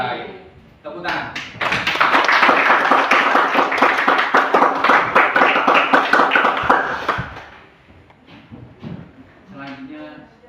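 Classroom students clapping their hands during a guidance lesson, a brisk burst of many hands that quickly builds, runs for several seconds, then drops off into quieter voices and scattered sounds.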